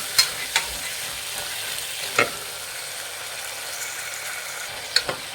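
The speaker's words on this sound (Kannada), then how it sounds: "ಎಣ್ಣೆಲಿ ಒಂದು 2 ನಿಮಿಷ ಫ್ರೈ ಆಗಿದೆ ಕಾಳು" Chickpeas and peas fry in oil in a pan while being stirred, a steady sizzle broken by a few sharp clinks and scrapes of the spoon against the pan, close and without talk.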